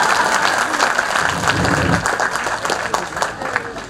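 The audience at a talent show on 15 August breaks into a dense patter of applause that fills the short stretch, with talking mixed in.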